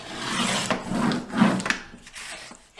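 Paper trimmer slicing through cardstock to trim the width, a few short scraping, rasping strokes that rise and fall over about two seconds, close and fairly quiet.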